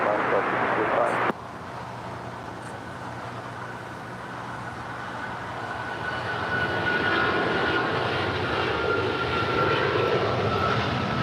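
An American heavy jet departs LAX; a deep engine roar builds steadily and grows louder toward the end, with radio voices talking over it.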